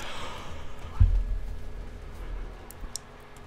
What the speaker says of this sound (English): Pardon me, I had to yawn.